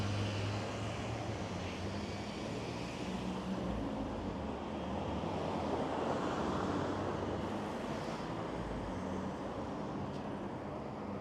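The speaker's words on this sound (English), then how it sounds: "The wind must be coming from the north." Strong northerly wind roars across the microphone on a Toronto city street near construction scaffolding, a dense continuous rushing noise mixed with low traffic rumble, loud and steady with no voices.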